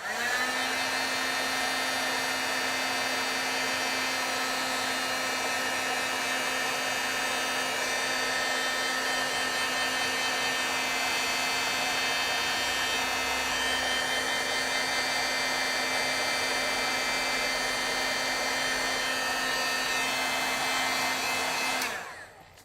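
Close, loud embossing heat tool blowing hot air to set black stamped ink on a card, a steady whirring roar lasting over twenty seconds before switching off.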